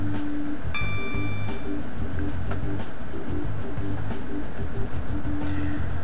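A Class 365 electric train in a train simulator game pulls away on the London Kings Cross to Welwyn Garden City route at full throttle. A steady rumbling hum of rolling stock plays with faint chimes and tonal whines, and no voices are heard.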